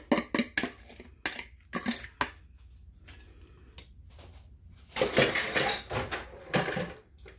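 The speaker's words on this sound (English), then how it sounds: "I'm going to throw that on my plate real quick." Bursts of clinking and scraping as a utensil knocks against a plate and pan while food is served, close and fairly loud, separated by quieter gaps.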